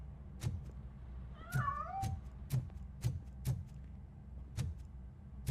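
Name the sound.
cat meowing, from a video game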